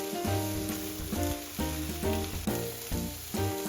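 Shiitake mushrooms and fried tofu sizzle in an oiled wok in a continuous crackling fry, with tonal background music running under it.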